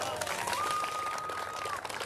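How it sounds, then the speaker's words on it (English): Crowd applause and cheering at the Yorkshire Strongest 2024 strongman competition, a dense continuous wash of clapping with a whistle-like tone over it. "A big round of applause there for Sam Ashton"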